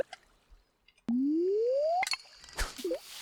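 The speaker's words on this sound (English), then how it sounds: "And cast our line into the water a couple more times." A fishing line is cast into water in Stardew Valley: a bright, rising whistling tone sweeps upward for about a second, then chimes, and a soft plop with a bubbly gurgle follows.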